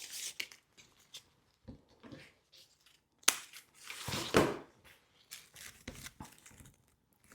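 A 4-inch length of ribbon for a Halloween wreath bow is cut with scissors, giving a few sharp close snips among light rustling and crinkling of the ribbon, no talking.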